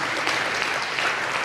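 Applause from a church congregation fills the whole moment, a dense steady patter of many hands clapping, fairly loud and continuous with no voices standing out.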